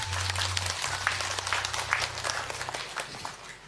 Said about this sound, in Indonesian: tepuk tangan ibu-ibu